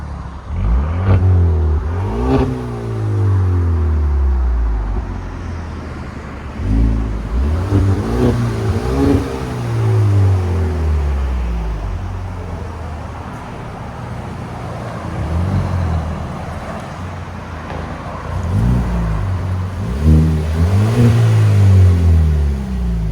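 A Kia Stinger 2.0 Turbo revs loudly and repeatedly. Each rev climbs sharply and falls back, close by and dominant, with an idle drone between the bursts.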